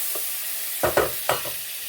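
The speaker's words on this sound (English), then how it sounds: "So the butter is melted, just spread it out" Melted butter being spread around a pan for broccoli and Stilton soup, a faint steady sizzle with three quick scraping strokes of a utensil close by.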